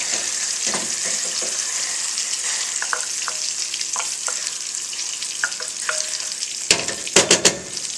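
Translucent shallots sizzle loudly in a pan as white wine is added, a dense steady frying hiss with occasional stirring taps, ending in a few sharp utensil clatters.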